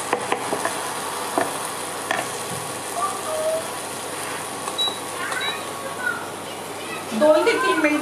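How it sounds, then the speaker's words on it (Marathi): Masala for misal sautéing in a pan, a faint continuous sizzle with occasional scraping stirs, and a voice speaking at the end. "मसाला चांगला परतून घ्यायचा आहे."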